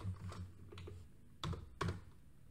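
Typing on a computer keyboard while writing Java button code: a few close, crisp keystrokes spread unevenly over a couple of seconds, with no voices.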